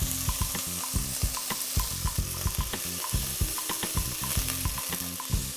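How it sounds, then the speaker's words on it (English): A small, finely diced white onion sizzles in olive oil in a medium pot, with a steady frying hiss broken by regular scraping strokes of a spoon stirring it, close and without voices. "I have a small white onion, finely diced. And we're just gonna saute that a little bit."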